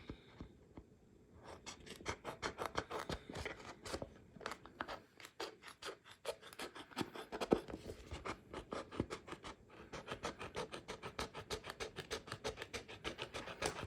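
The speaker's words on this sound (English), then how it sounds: "I'm going to cut this off of here first so that we don't waste any." Scissors snipping puff heat transfer vinyl off its sheet, close and quiet, with a long series of quick, crisp rhythmic cuts broken by short pauses and no talking.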